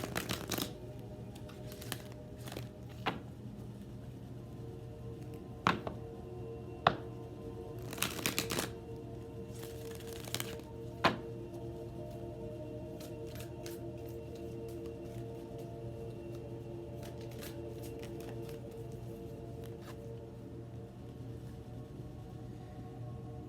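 A deck of oracle cards is shuffled by hand at close range, with soft riffling bursts and crisp card slaps spread over a quiet background hum, no talking.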